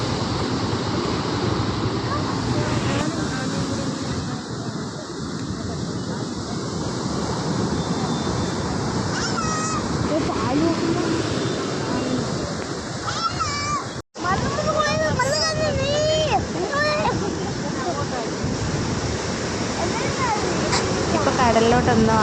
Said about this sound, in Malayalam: കടൽ നന്നായിട്ട് കരയ്ക്ക് കയറിയിട്ടുണ്ടായിരുന്നു.